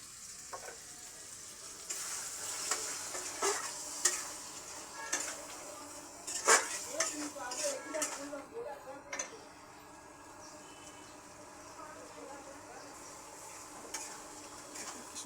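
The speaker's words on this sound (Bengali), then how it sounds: "এবার নারকেলের দুধটা দিয়ে দেবো। এক কাপ নারকেলের দুধ" Coconut milk poured into chicken kosha sizzles and fries in a pan, with intermittent spoon scrapes and clinks against the metal, fading quieter toward the end while a voice talks at times.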